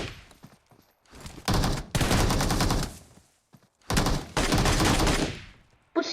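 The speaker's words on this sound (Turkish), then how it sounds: "Bu silahla vurmağa çalışıram ki, güllə çox getməsin" Gunfire in a looting shooter game: two long bursts of rapid automatic fire, loud and close, separated by a short pause, with scattered single shots and quieter clatter before them.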